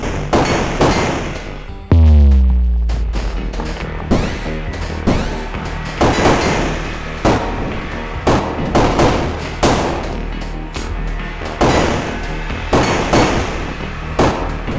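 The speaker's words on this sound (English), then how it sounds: "you can't fire too rapidly or your gun overheats" A player's gun fires in the video game Overwhelm: repeated sharp bursts in irregular rhythm with a heavy low boom early on, loud and close throughout.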